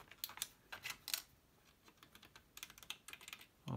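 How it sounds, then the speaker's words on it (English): Buttons on a petSD+ device case being pressed and released, making quick, faint plastic clicks in rapid clusters, with a short pause between two bursts, close and without any talking. "The buttons all move quite freely."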